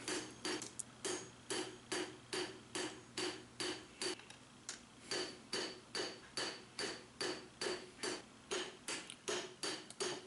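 Rhythmic hammer blows forging a lawnmower blade into a kopis short sword, about two ringing metallic strikes per second, steady and close, alone with no voices.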